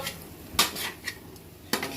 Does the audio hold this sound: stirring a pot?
yes